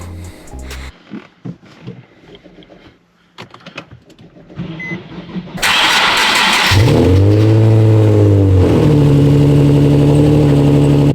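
A car with an exhaust leak and a misfire code is started in a garage after some quiet shuffling, then roars loudly and revs up and down close by before holding a steady, throaty idle.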